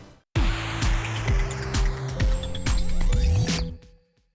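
Vampire Survivors game audio on the classic sound setting: a loud burst of crunchy retro effects with repeated descending chirps and zaps, several quick hits layered over noise, cutting off into silence.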